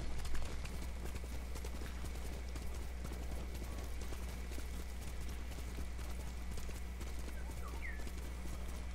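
Steady hoofbeats of a horse galloping in a video game, a rhythmic clip-clop over a constant low hum and background ambience, with no talking.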